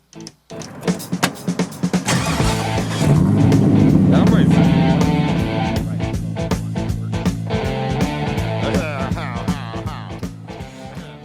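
A 1000-horsepower 1967 Camaro fires up and drives off, its modified engine opening with a few sharp revs, then building into a loud, sustained, rising roar close by, with a voice briefly audible over the engine.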